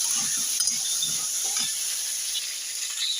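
Pointed gourd pieces are stirred in a wok of hot mustard oil, with soft scraping and clinking from a utensil over a continuous sizzling hiss.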